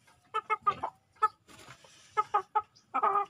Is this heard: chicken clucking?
yes